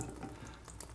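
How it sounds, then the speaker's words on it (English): Leftover water splashes and trickles out of a disconnected toilet tank supply hose during a bidet installation, a short steady watery hiss close by with no talking. "there comes some water"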